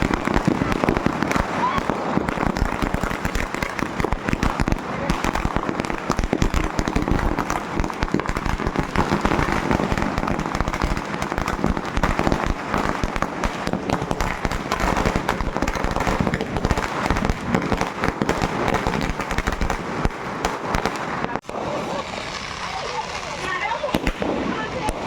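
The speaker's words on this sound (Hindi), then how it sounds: "सारे बच्चे बड़े हो गए हैं तो बड़े-बड़े पटाखे फोड़ते हैं" Firecrackers and fireworks burst during Diwali, with big crackers set off by children. The crackling and popping is dense and continuous, with louder bangs mixed in, while people talk underneath.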